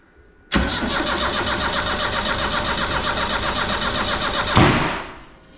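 A budget-built Ford Fiesta Mk2 with a Zetec turbo engine cranks and fires, roaring loud and close with a steady pulsing note for about four seconds, then surges briefly before dying away.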